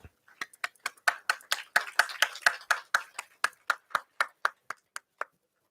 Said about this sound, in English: Please give a huge round of applause in welcoming ma'am on the dais.